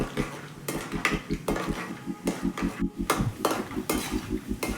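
Peanuts being fried and stirred in a pan for Karnataka-style tomato chitranna, with a steady run of sharp metallic scrapes and clinks from a spoon against the pan over a low background sizzle, close and fairly loud, no talking.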